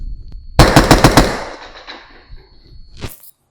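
Suppressed Knights Armament KAC rifle fired in a quick string of about six sharp, close shots, each a muffled crack, followed by a brief metallic clatter.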